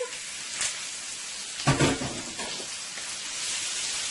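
Shrimp go into a hot pan and hit it with a loud sizzling hiss that flares sharply near the middle, then settles into a steady, bright frying crackle close to the listener.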